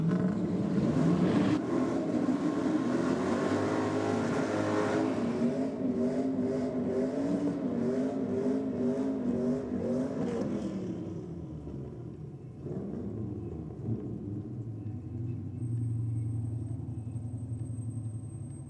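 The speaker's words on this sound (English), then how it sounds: "A couple of tough V8s down on track." V8 race cars, including a V8-powered Nissan, roar past on a racetrack, loud sustained engine drone with rising and falling pitch as cars pass, then a quieter lower rumble of another car nearby.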